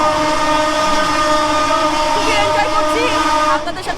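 A Jahanabad Express train on the Dhaka–Khulna route crosses the Padma bridge, its steady loud rumble and rolling clatter filling the clip, with high whistle-like tones and a brief voice near the end.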